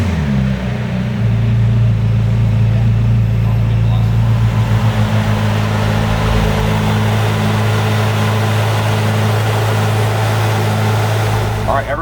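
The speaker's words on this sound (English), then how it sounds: "Can we hear the engine?" A McLaren Speedtail engine runs loud and steady throughout, a deep sustained drone with a slight swell early on, heard close and alone.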